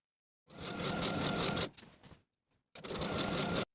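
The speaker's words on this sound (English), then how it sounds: "Now take your skirt to your machine and sew all the way around your hem close to this folded" A sewing machine stitches around a folded skirt hem (Simplicity 1370 pattern) in two steady whirring runs, the first about a second long with a brief pause, then another run after a gap of silence; close and alone.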